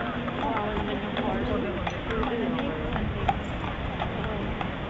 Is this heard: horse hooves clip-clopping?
yes